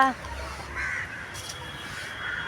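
A crow caws nearby in two or three short, harsh calls while a person talks over them.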